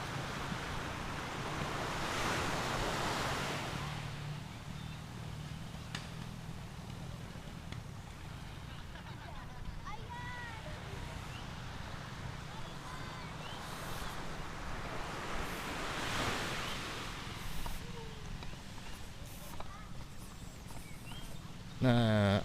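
Calm sea surf rolls onto the sandy beach at Ajay Geulumpang in Aceh Jaya in clear weather, with soft, continuous wash swelling in slow surges and light wind buffeting the microphone.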